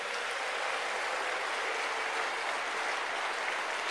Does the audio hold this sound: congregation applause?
yes